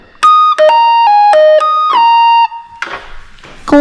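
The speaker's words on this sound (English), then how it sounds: "Vintage stylophone." Vintage stylophone playing a short stepping melody of buzzy electronic tones, loud and close, ending with a brief noisy burst.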